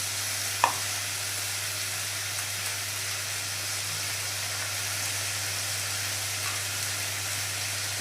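Chicken pieces dropped into hot frying masala, with one soft thud at the start and then a steady, even sizzle running through to the end.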